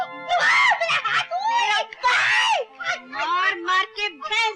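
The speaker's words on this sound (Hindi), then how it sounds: "क्या चिल्ला रही हो?" A woman screams in a Hindi film scene from Seeta Aur Geeta: loud, shrill, close bursts of screaming and frantic shouted cries in quick succession, broken by brief gaps.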